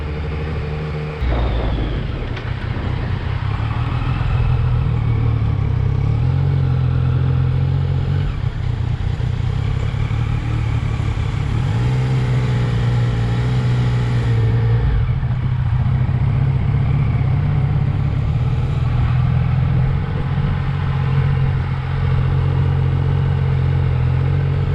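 A 2023 Yamaha XSR900 motorcycle rides steadily with a continuous engine drone, alone and close, with a brief rise in revs early on and a steady road roar throughout.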